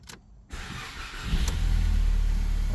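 A 2017 Ford Focus engine is cranked and starts, a click and brief whir followed by the engine catching and settling into a steady, loud idle close by.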